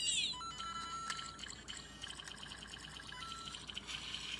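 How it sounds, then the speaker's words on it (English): Plastic Lego Mario Dorrie's Beachfront toy set playing an electronic water sound effect, a bright trickling, pouring chime with tinkly tones, fairly quiet and close, running steadily for a few seconds with no talking. "Kind of you get water sounds."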